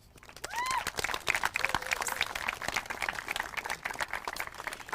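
Applause and clapping from an audience at a middle school awards ceremony, a steady crowd ovation that rises quickly and carries on through, with whistles and cheers mixed in.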